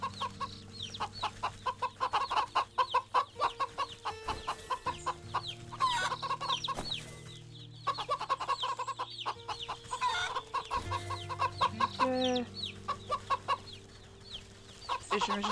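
Chickens and a rooster in the video game Wytchwood cluck in rapid repeated bursts, close and loud, over a steady background of game music, with one brief spoken word.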